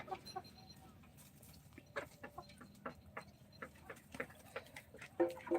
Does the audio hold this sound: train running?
no